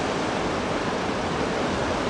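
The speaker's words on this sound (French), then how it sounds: "C'est l'océan, un jour de forte mouvance, de forte intensité, de fort vent, de grosses houles, de grosses vagues" Stormy ocean with big swells and strong wind, a dense, steady roar of surf and gusting air that stays loud and unbroken throughout, with no voices.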